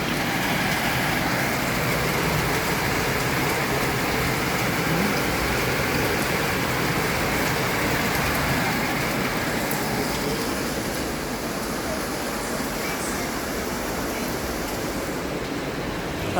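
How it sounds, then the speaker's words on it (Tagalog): Heavy rain pours steadily outdoors during a typhoon, a dense, unbroken hiss that holds at an even loudness throughout, with no voices over it. "Lakas pa ng ulan sa labas."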